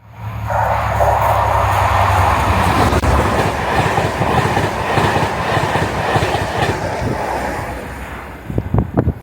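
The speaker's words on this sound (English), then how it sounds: "they let the Cardiff Central train pass through first" A train rumbles loudly through a railway station at close range without stopping, a steady roar with rhythmic clatter of wheels on rails that fades near the end.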